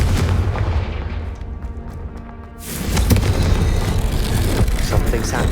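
A Confringo blasting spell in Hogwarts Legacy goes off with a sudden loud boom about halfway through, following a rumbling buildup of muffled thuds, then a dense crackling wash trails after; a voice speaks nearby.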